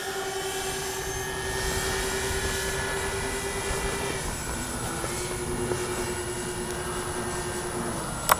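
An RC B-25J warbird model plane drones steadily as it flies in to land, a continuous even engine hum with faint tonal whine, no voices.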